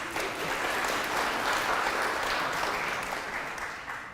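A studio debate audience breaks into loud, sustained clapping that fills the room evenly for several seconds before tapering slightly, with no voices over it.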